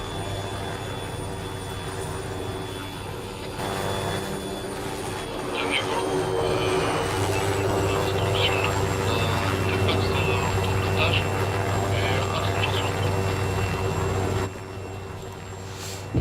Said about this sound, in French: on est dans l'hélico Reiter, Camille